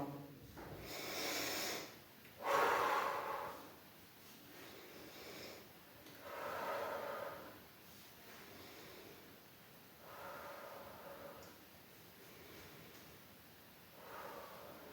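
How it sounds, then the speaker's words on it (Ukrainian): Children doing a breathing exercise, drawing air in through the nose and blowing it out through the mouth; soft breathy puffs and sniffs recur every few seconds at close range, with no talking. "Вдихаємо носиком, піднімаємо ручки вгору, опускаємо ручки вниз, видихаємо ротиком."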